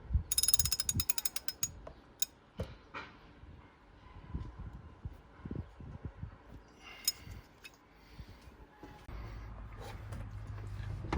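A torque wrench ratchet clicks while tightening genuine Volkswagen stretch bolts on a VW Caddy fuel injector job, heard as quick bursts of ratcheting separated by clanks, pauses and handling knocks.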